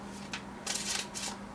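A Modern Witch Tarot deck being shuffled by hand: a few short papery riffling bursts, the longest in the middle, close and moderately loud with no talk.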